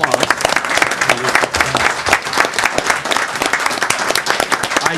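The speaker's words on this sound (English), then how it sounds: "Let's give them a round of applause." Enthusiastic audience applause at a council meeting fills the room with dense, continuous clapping for the whole stretch, loud and close.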